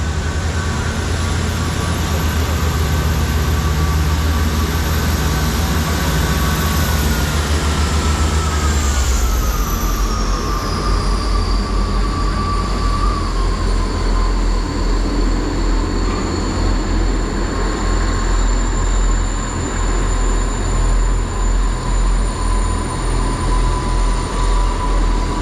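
A South Western Railway train runs into Dawlish Warren station with a steady loud rumble, a high brake squeal that slides downward as it slows, then a continuous idling hum as it stands, with no talking.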